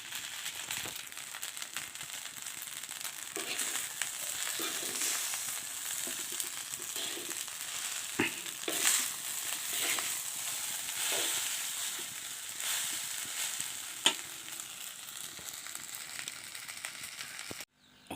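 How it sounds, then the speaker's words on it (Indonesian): Nasi goreng frying in a pan over a wood fire, a steady broadband sizzle with crackles and stirring scrapes running continuously and close throughout. "Ya, proses penggorengan."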